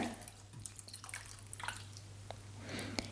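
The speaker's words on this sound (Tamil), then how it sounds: "நம்ம கரைச்சி வச்ச புளி, தக்காளி அந்த கரைசலை இதில் சேர்த்துக்கலாம்." Tamarind and tomato extract poured into a pan for onion rasam, giving soft wet drips and splashes with a faint steady hum underneath, no voices.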